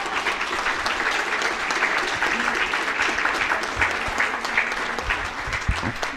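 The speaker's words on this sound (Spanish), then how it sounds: "aquí sí un aplauso para esta sociedad que se lo merece" An audience breaks into applause, a thick, continuous roar of many hands clapping at steady volume with faint crowd murmur and a voice or two mixed in underneath.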